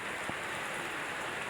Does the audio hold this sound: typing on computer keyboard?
no